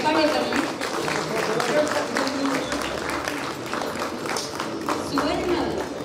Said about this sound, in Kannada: ಚಪ್ಪಾಳೆ ಬರಲಿ.